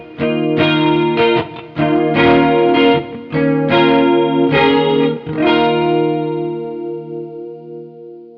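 Guitar through a Plorious analog bucket-brigade chorus pedal on its Interstellar setting: a few strummed chords swirling with thick, slightly gritty modulation, played alone and left to ring out and fade at the end.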